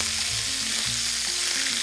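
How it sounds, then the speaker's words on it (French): Lamb pieces sear in a hot pan with a loud, dense sizzle that stays constant and close throughout, with faint tonal hum beneath and no voices. "Pendant ce temps, on va pouvoir saisir notre agneau."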